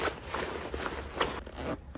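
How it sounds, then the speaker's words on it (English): A zipper on a WATERFLY 20L packable backpack is run shut around its pouch in a few quick, close scratchy pulls that end after about two seconds. "you just zip it down"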